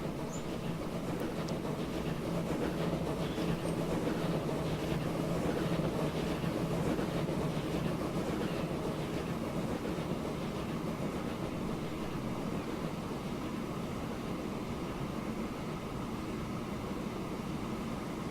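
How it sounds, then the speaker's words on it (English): A doubleheader freight train in the video game Transport Fever rolls along with a continuous low rumble and faint clickety-clack of wagons, steady and fairly quiet with no voices. "That's a proper freight train."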